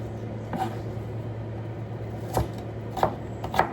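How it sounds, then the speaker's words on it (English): A knife chops onions on a board in four separate strokes over a low, steady background hum. "I'm cutting the onions"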